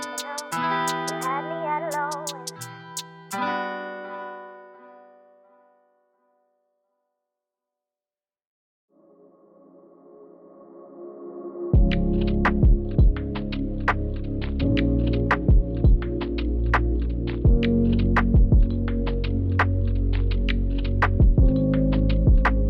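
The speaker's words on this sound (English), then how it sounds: "going back in with the blow dryer" After a few bright musical tones and a pause, a Revlon One-Step hair dryer starts up and blows with a loud, steady roar while drying natural hair.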